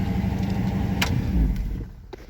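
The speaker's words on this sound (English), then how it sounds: "We'll apply the parking brake. Start the engine again." A 1965 Ford Thunderbird engine cranks and catches, settling into a low rumbling idle close by, with a couple of clicks before it fades off near the end.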